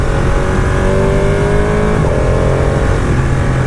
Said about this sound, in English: This engine sounds brilliant.